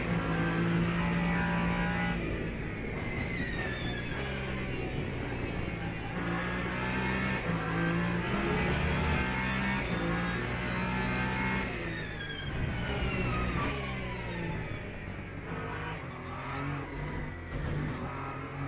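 A hypercar engine in the Le Mans Ultimate racing game roars steadily through the whole stretch, rising and falling through gear changes with loud, continuous revving and no talk.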